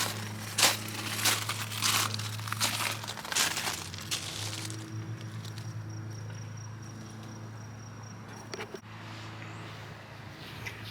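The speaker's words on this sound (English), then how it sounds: "I'm gonna break them in half every year" Garden plant stems being snapped in half by hand outdoors in early summer: a run of crisp cracking and crunching snaps over the first few seconds, then quieter rustling against a steady insect hum.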